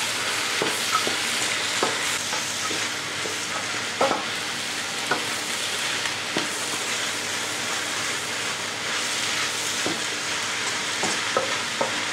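Okra soup sizzles steadily in a pot while a utensil stirs it, making scattered scraping knocks against the metal over the constant frying hiss.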